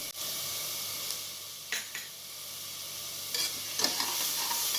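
Ginger garlic paste sizzles in hot oil with browned onions for mutton kurma, a steady bright frying hiss with a few soft stirring scrapes, close and continuous with no voices.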